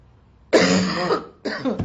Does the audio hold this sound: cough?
yes